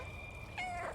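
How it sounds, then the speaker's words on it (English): A cat meows in the video game Stray, one short, clear mewing call that arrives near the end of a second of quiet game ambience, with steady tonal background sound beneath it. "I must meow to my friends."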